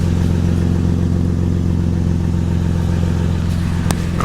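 A 5th gen Toyota 4Runner with an aftermarket catback exhaust runs steadily nearby, a loud deep rumbling drone with a faint clatter near the end.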